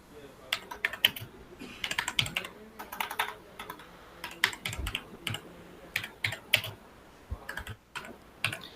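A message is typed on a computer keyboard in quick, irregular bursts of close, crisp key clicks with short pauses between them.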